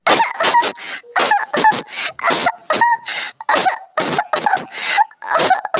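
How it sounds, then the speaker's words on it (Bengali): Repeated harsh coughs in quick bursts, close and loud, spread through the whole stretch from people at home with a viral cough. "আমারও কাশি হচ্ছে প্রচুর কাশি হচ্ছে"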